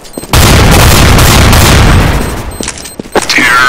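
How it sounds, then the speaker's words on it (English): A grenade blast in Counter-Strike: Global Offensive, a sudden loud close boom that rumbles and decays over about two seconds, followed by scattered gunshots and brief game sounds. "Throwing a grenade!"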